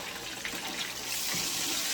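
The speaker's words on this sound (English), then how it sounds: "my fish is bubbling" Fish frying in hot oil for a Sunday cook-up of ground provisions, giving a steady close hiss and crackle of bubbling with no talk.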